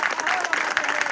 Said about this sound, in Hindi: सभी ताली लगाइए